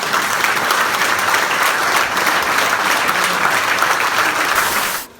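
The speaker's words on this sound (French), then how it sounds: "un monsieur que je voudrais qu'on applaudisse parce qu'il me manque énormément" Loud, dense theatre audience applause after a stage performance, sustained clapping for about five seconds before cutting off abruptly.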